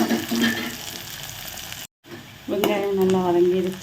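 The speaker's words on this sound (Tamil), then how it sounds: "வெங்காயம் நல்லா வதங்கிருச்சு" Chopped onion sautéing in hot oil in a pan, a steady close sizzle. It cuts out briefly, then returns with a voice talking over it.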